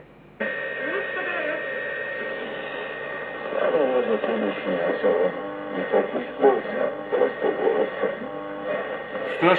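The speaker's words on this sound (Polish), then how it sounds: "Strasznie ściąga zakłócenia." A 1958 Sky Leader transistor radio humming with heavy picked-up interference: a steady buzzing tone and crackling static over a faint broadcast voice and music coming through the small speaker.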